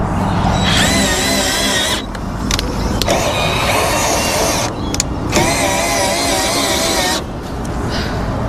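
A cordless drill whirs loudly in long sustained runs, stopping briefly twice, its motor straining under load up close as it drives a caravan jockey wheel gearbox, lifting a large caravan.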